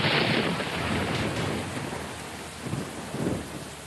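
Heavy rain pours steadily in a bus simulator video game, with thunder rumbling through the downpour; loud, dense and continuous, with a couple of low swells near the end.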